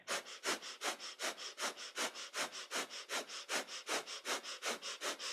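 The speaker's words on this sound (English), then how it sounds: "And we're holding this posture with a breath of fire." Rapid, even breath of fire from kundalini yoga while holding a posture with one leg lifted: sharp nasal exhalations repeat at about three per second, loud and close, with no talking.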